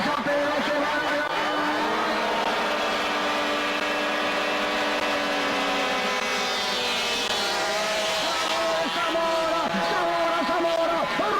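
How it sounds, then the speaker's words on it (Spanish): Race cars on an amateur circuit revving at the start of the afternoon's first race: a dense, continuous engine roar holds steady throughout, with pitch sweeps as several motors climb together, loud and close. "Se va a poner en marcha la primera competencia de la tarde. Todo listo, motores a pedo, se va a largar."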